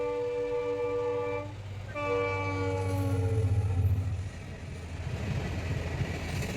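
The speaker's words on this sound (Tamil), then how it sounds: "ட்ரெயின் வர போகிறது." A train sounds its horn in two long steady blasts separated by a short gap, while the deep rumble of the passing cars builds underneath and then gives way to rushing wind-like noise.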